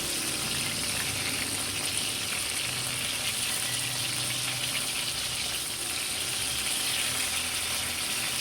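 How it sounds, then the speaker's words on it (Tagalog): Eggplant slices fry in hot oil with a loud, steady, close sizzle and crackle that holds evenly throughout, with no voices. "akin na pong bibilingin yung pong piniprito ko na talong."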